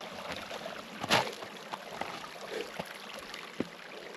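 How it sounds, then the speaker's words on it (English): A small creek trickles high in the mountains at the source of the Amazon River, a faint, steady watery wash with a few soft splashes and knocks. "The river is still flowing."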